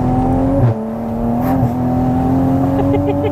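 A 510 bhp Toyota MK5 Supra with a B58 engine holds a steady, droning engine note with strong low rumble. The tone dips briefly, then hums on evenly and loudly, heard from inside or close by.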